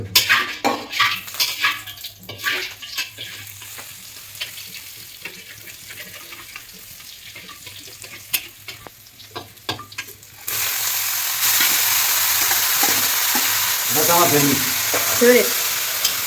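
Neem leaves and eggplant frying in oil sizzle loudly, with clinks and scrapes of a utensil against the pan. The frying grows into a louder, denser hiss partway through, and a voice speaks briefly near the end.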